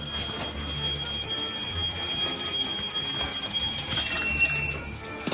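An alarm rings steadily with sustained high bell-like tones over a busy background of room noise, continuing throughout without a break.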